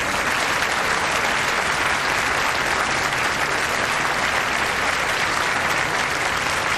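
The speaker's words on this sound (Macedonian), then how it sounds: "Може ли еден голем аплауз?" A large crowd gives a sustained, loud round of applause at an evening wedding celebration, a dense, even clatter of many hands lasting several seconds with no voices over it.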